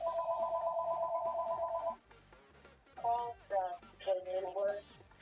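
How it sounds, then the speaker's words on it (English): A phone rings in the Pokémon Sword/Shield video game: a steady electronic two-tone ring for about two seconds, then shorter melodic beeping chimes, all over a constant rhythmic game music beat, with speech-like sounds mixed in. "And now the phone's ringing."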